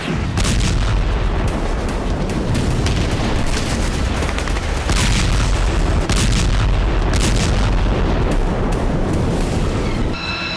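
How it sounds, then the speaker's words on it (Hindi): Heavy explosions from US airstrikes bombing the area around Sanaa, Yemen, form a dense, continuous roar of booms and blasts that stays loud throughout without pause. "अमेरिकी वायुसेना ने यमन की राजधानी सना और सादा के आसपास जबरदस्त बमबारी की"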